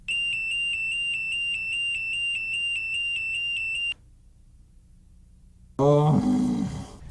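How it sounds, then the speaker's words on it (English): A loud electronic alarm beeps in a steady rapid pulse for about four seconds, then stops; after a pause, a deep snore-like grunt follows. "listen to this alarm sound"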